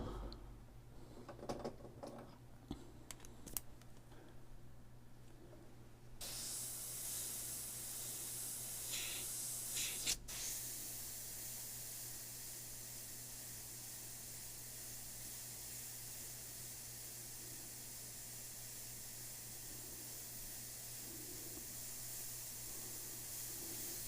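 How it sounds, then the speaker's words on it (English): An airbrush sprays white paint as it begins drying up in the brush, giving a steady, faint hiss that runs on alone after some scattered clicks and shuffles at the start. "I can tell by the way it's spraying. It's not coming out smooth anymore."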